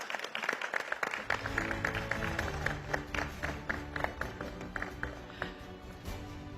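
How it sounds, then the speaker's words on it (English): An audience at the India Business Leader Awards 2026 ceremony gives Team Mahindra a round of applause: dense, steady clapping that fills the room throughout, with a voice faintly heard beneath it. "Ladies and gentlemen, a big round of applause for Team Mahindra."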